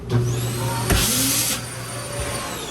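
Built-in vacuum of a 2023 Hideout travel trailer switched on, a loud steady motor whine and airflow hiss with a sharp burst near the start, running alone with no talk.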